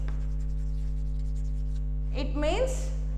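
A marker or chalk scratches and squeaks across a classroom board in a short burst of strokes near the end, over a steady electrical hum.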